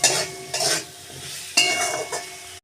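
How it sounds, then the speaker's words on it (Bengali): Bhetki fish pieces with spices being stirred in a pan, with two bursts of spatula scraping over a soft sizzle, close and fairly quiet, ending in a sharp clink. "মশলাটা দিয়ে ভালো করে আবারও নেড়ে নিচ্ছি"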